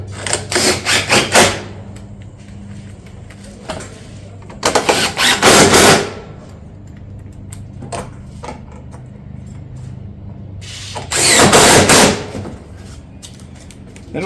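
Bursts of a power tool fastening barrel vault roof tile come in three separate runs of about one to two seconds each, with quieter handling noise in between.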